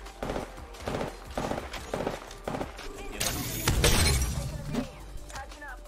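Charge rifle shots in a video game, a series of sharp, loud, rhythmic energy blasts followed by a bright, shattering burst, with players talking over the gunfire.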